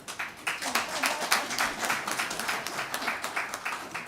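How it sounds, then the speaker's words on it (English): A conference audience at an opening session claps at a modest volume. The hand claps are individually distinct and irregular, forming a moderate, uneven patter that holds for about four seconds. "So you clap properly."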